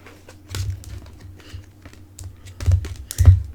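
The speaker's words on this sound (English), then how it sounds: "I gotta shuffle these ones" Oracle cards being shuffled close by: soft, quick papery riffles in uneven bursts with a couple of louder flutters, no voices.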